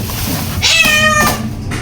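A cat meows in a short, clear cry with a rising then falling pitch, heard close over a busy market background.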